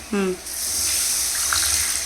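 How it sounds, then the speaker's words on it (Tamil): Curry masala water poured into a cooking pot, a steady close gushing splash lasting a couple of seconds, preceded by a brief spoken voice. "கறி மசாலா தண்ணி ஊற்றுறேன்"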